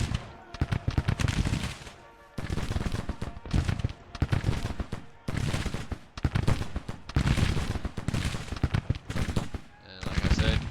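Musket volleys from massed troops in the Grand Tactician strategy game, loud crackling bursts of rolling gunfire repeating in waves with short pauses between them.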